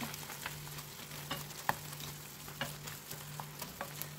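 Food frying quietly in a pan with olive oil as it is stirred, a soft steady sizzle broken by occasional light clicks and scrapes of the spoon, fairly faint and close with no talking.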